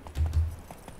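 Horse hooves clip-clopping in the video game Witcher III, a few soft, low thuds in quick succession at walking pace, fairly quiet and close.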